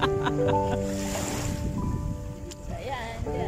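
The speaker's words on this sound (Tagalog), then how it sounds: "Maalon na siya." Choppy sea waves rolling in at Sentosa beach on a windy afternoon, a steady rushing surf with wind buffeting the microphone, heard under someone talking nearby.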